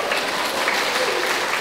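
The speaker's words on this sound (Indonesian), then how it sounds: "Nggak usah tepuk tangan" A church congregation at a worship service applauds, a steady, even wash of clapping heard from a short distance, alone and without talking.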